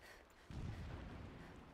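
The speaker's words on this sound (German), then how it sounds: "Explosions in the distance." Distant explosion in the video game Horizon Zero Dawn, a single low muffled boom that rolls in suddenly and rumbles on faintly.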